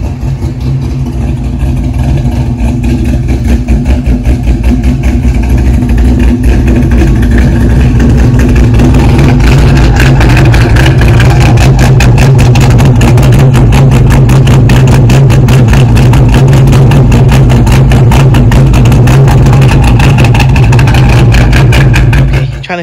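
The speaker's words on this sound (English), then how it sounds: "You might hear my GTO running in the background." A Pontiac GTO's engine idles steadily and loud throughout, a continuous low rumble with a dense rhythmic pulse, with no talking over it.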